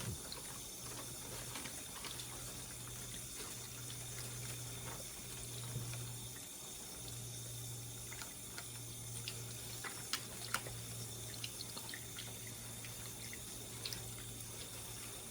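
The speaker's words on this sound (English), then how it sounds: "I'm going to come over here and I'm going to wash them really good." Water runs from a tap while food is being washed in a sink, a faint, steady stream with small splashes, and a low hum underneath that drops out briefly partway through.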